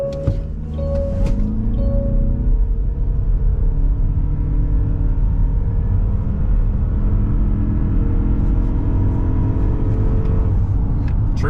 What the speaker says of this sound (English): 0 to 60 in the CX-50 Hybrid